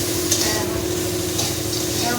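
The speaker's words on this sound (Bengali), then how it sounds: "মোটামুটি ভাজা ভাজা হয়ে গেছে" Food fries and sizzles in a pan with continuous stirring, giving a dense, even hiss with occasional scraping. A faint low hum runs underneath, and no one speaks.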